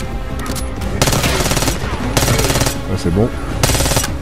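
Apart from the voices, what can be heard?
gunfire in video game Call of Duty Black Ops 6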